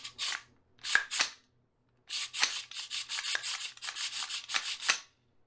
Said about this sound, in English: you can tell from that clip that there's just a lot of spring noise